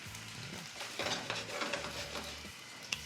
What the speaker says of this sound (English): to cook our sausage, we're just gonna throw a little bit of oil